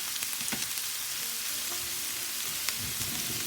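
Onions and vegetables browning in a pan over medium heat on a stovetop, a steady close hiss of frying with soft crackles and pops throughout, no voices.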